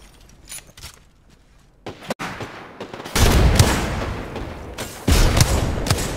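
Rapid bursts of gunfire from the video game Apex Legends, loud and dense from about the midpoint onward, with quieter scattered shots and movement sounds before.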